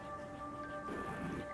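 Rain condensed from rising material in the video game Sandustry falls as a soft, steady patter and hiss, brief and close, over sustained background music tones.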